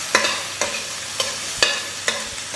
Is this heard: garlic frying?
yes